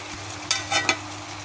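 Small mango pieces with salt, chili powder and turmeric stirred in a pan, a low background sizzle broken by three quick scraping strokes of a spatula, close and fairly clear.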